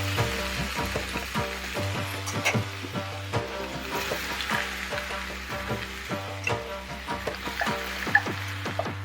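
Beef and spices for a curry fry in a pan, a loud continuous sizzle broken by repeated clattering stirs and scrapes, close up, with no talking.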